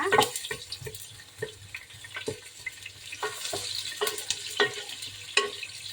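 Ginger sizzles in a hot pan while a utensil stirs it in repeated scraping strokes, producing sharp clattering bursts over a constant low frying hiss, close and moderately loud.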